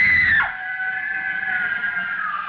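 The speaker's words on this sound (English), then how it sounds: "The girl, screaming with rage," A girl screams with rage in one loud, shrill cry that drops in pitch and then holds as a sustained, strained wail, heard alone without speech.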